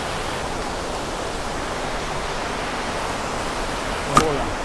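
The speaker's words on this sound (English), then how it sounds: "Waterfall there." An underground waterfall inside a cave at the Quashie River Sink roars as a steady, even wash of rushing water, filling the space throughout with one brief knock near the end.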